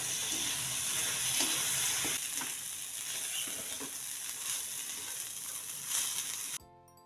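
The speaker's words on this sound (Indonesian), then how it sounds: "Masukkan ubi gorengnya. Ini pengganti kentang ya." Fried sweet potato pieces stirred in a sizzling pan for a spicy fried dish, with continuous frying crackle and repeated scraping strokes of a spatula, ending abruptly.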